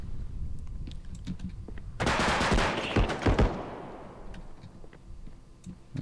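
MP5 submachine gun bursts in the video game Bodycam, a sharp cluster of rapid loud shots that echo and fade, with soft keyboard clicks tapping before and after.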